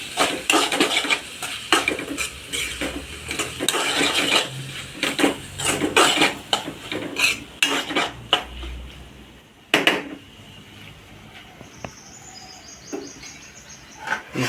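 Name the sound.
stirring curry in a pan to mix everything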